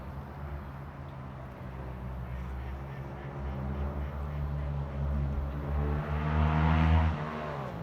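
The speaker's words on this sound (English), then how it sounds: "That is a loud motorcycle because it is bike week" A loud motorcycle passes during bike week, its engine rumble swelling steadily and peaking near the end before easing off; no voices, just the growing roar of the pass-by.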